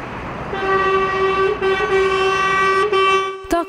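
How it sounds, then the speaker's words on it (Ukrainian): Trucks and cars honk their horns at a protest outside the Polish Consulate General in Lutsk, where a loud, sustained horn chord holds for several seconds, dips briefly, and ends in a few short blasts. "Сигналять не тільки фури, а й легкові авто."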